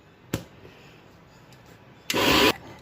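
A faint click, then a brief loud burst of a mixer grinder whirring as it grinds idli batter for about half a second before cutting off.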